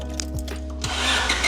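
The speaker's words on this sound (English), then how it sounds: "we'll start the engine" A warm Nissan S14's engine cranks and catches, with a short starter whir and then a rising idle over a steady low hum.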